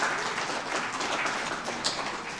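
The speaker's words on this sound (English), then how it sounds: "Round of applause." A conference audience applauds a panel with continuous clapping that holds at an even level throughout.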